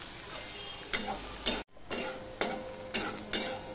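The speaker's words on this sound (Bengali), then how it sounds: "দেখো রসুন পেঁয়াজটা লাল লাল হয়ে ভাজা হয়ে গেছে।" Chopped onion and garlic sizzle steadily in hot oil in a pan, with a spoon scraping and stirring in repeated strokes every half second or so, close up and without talk.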